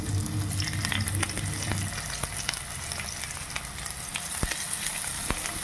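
Egg dokha pieces fry in hot oil with a continuous crackling sizzle and sharp pops scattered throughout, fairly close and without talk.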